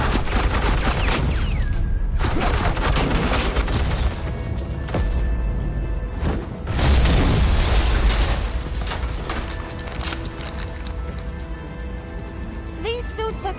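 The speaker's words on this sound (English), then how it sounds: "suppressing fire" Suppressing gunfire in Batman The Telltale Series video game: sustained rapid bursts of shots and booming impacts, loud and dense throughout, with a voice speaking over part of it.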